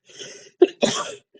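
A person coughs indoors, a short series of three harsh, close coughs with brief gaps between them.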